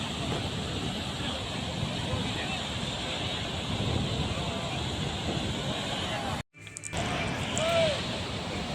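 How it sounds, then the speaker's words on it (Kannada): Water from the Gorur Hemavathi dam near Hassan rushes down in a continuous loud roar, with wind buffeting the microphone and a brief dropout near the end. "ನೋಡಿ ನೀರು ಯಾವ ಫೋರ್ಸ್ನಲ್ಲಿ ಮೇಲಿಂದ ಕೆಳಗೆ ಬರುತ್ತಿದೆ ಅಂದರೆ ಆ ನೀರಿನ ರಭಸಕ್ಕೆ ಬರುವ ಶಬ್ದವೇ ಹೇಳ್ತಿದೆ"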